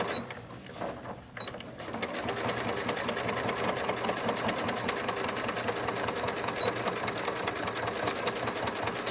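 A sewing machine fitted with a fresh needle stitches through layered bag fabric, running as a steady, fast, close mechanical chatter after a few brief handling noises at the start.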